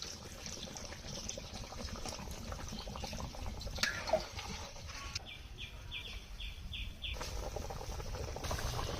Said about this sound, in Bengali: সেদ্ধ হওয়ার জন্য পরিমাণ মতো পানি দিয়ে দেবো।